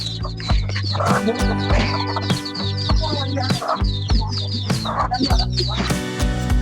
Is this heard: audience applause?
no